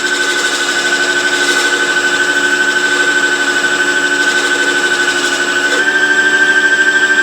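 A DIY sharpening station polishing a plane blade, giving a steady loud motor whine and grinding hum that runs continuously without pause.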